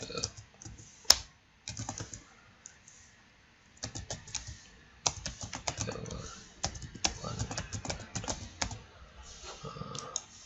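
HTML code is typed on a computer keyboard in quick irregular bursts of crisp clicks separated by short pauses, close and fairly quiet, with no speech.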